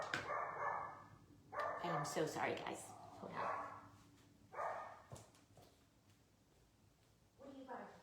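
A small pet dog barks in several sharp bursts spread across a few seconds indoors, with someone talking between and over the barks.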